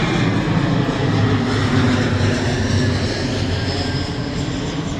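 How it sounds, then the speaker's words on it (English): An airplane flies overhead in San Diego during an outdoor interview, a loud, steady broadband engine roar that fills the whole stretch and fades slightly toward the end, with no talking. "Hang on, we got a plane coming."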